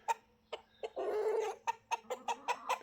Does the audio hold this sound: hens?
yes